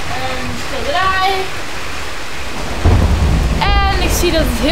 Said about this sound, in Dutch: En ik zie dat het heel hard regent en onweer.